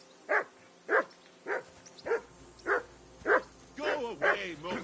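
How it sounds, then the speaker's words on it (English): A dog in Kingdom Come: Deliverance II barks in an even series of about eight sharp, close barks, the last few running together more rapidly. "Henry, that barking's driving me nuts"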